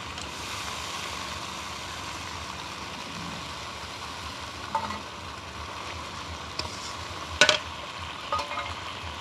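Onion frying in oil with cumin and ginger-garlic paste for chicken dum biryani, a steady moderate sizzle with occasional louder utensil scrapes and clinks near the end.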